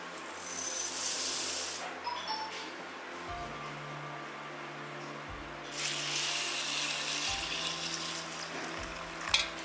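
Water runs from a tap and splashes into a container as seeds are soaked for sprouting, a continuous wash of flow with shifting intensity and a few brief knocks, no voices.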